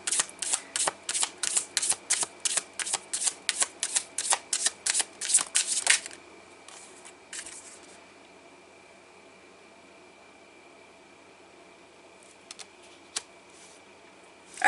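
Tarot deck being shuffled in a rapid run of riffling card flicks for several seconds, followed by a quiet pause and a couple of faint card taps as a card is picked.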